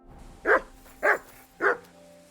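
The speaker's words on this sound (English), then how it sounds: "Here, Mutt!" Three loud, evenly spaced dog barks from a dog in Kingdom Come: Deliverance 2, each short and sharp, set against faint background game ambience.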